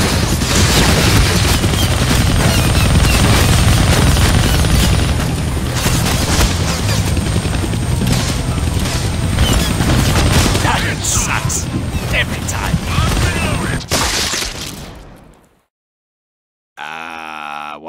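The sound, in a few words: gunfire in Deadpool video game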